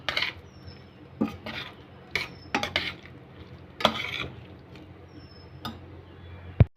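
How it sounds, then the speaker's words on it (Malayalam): A spoon stirs pumpkin and bean erissery mixed with ground coconut in a cooking pot, giving irregular scraping knocks and clinks against the metal with quiet pauses between. "നമ്മളിനി ഈ അരച്ച് വെച്ചിരിക്കുന്ന തേങ്ങയിൽ ഇട്ട് കൊടുക്കുക. ഒന്ന് നല്ലോണം ഇളക്കി കൊടുക്കുക."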